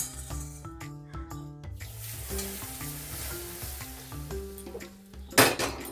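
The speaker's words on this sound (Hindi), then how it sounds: "तो ये गरम गरम तेल हम इसके ऊपर डाल देंगे।" Hot smoking oil poured over radish pickle sizzles in a steady hiss, with scraping and stirring noises, beneath melodic background music.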